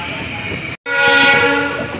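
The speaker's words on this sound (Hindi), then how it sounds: "फाइनली हम पहुंच रहे हैं बालामऊ जंक्शन पर, हमारी ट्रेन का अराइवल होने वाला है।" A train pulling into Balamau Junction, with a loud, sustained horn blast that breaks off briefly and then resumes, carrying over the rumble of the moving train.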